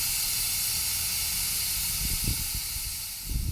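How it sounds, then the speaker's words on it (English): Steam hisses steadily from a pressure cooker during a quick release inside a motorhome kitchen, a loud continuous close-up jet with a few soft knocks and rustles near the end. "the way that you can release the steam, because you have to do this first before you ever open the pressure cooker"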